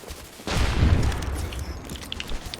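Ash's dynamite going off in the shooter game Overwatch, a sudden booming blast that swells into a broad rumbling roar and slowly fades under light crackles and clicks.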